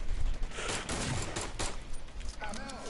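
Rapid bursts of gunfire in an army shooter video game crackle through a busy game mix, with voices talking over the shots.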